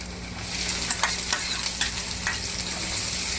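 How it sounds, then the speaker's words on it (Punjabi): Cumin seeds, garlic and onion sizzle in hot oil in a pan, giving a continuous crackling fry with small popping bursts. The sound is close and steady, with no voices. "ਤੇਲ ਗਰਮ ਹੋ ਗਿਆ ਅੱਧਾ ਚਮਚਾ ਆਪਾਂ ਜੀਰੇ ਦਾ ਪਾ ਦਾਂਗੇ ਲਸਣ ਪਾ ਦਾਂਗੇ ਪਿਆਜ਼ ਪਾ ਦਾਂਗੇ"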